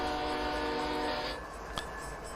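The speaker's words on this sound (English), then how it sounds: "We can turn this bell off now." Locomotive bell in Train Simulator 2019 on a Canadian mountain pass route, a steady ringing tone over rumbling engine noise that cuts out partway through, leaving a softer rail background with one sharp click.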